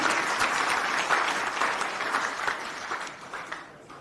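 Applause rises from a crowd at a Haryana election rally as a speaker is welcomed, a broad thick clapping that holds strong and then gradually thins and fades toward the end.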